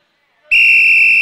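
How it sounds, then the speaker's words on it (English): A referee's whistle in a box lacrosse game gives one sharp, loud, sustained blast, heard alone and close after a moment of silence. "Tom Coyne with an authoritarian whistle there."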